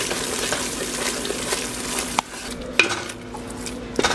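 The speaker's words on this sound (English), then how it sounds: "we added in the sausage as well, and we've been stirring for about a minute and a half" Gumbo with added sausage being stirred in a pot, a scraping, sloshing stir over a low simmering sizzle, with a few clinks of the utensil against the pot, no speech.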